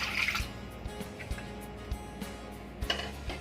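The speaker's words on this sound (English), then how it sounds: "We'll add a bit of water to this." Water is poured into a cooking utensil holding leftover masala, with soft splashes and drips and a few light clinks of metal, quiet and close.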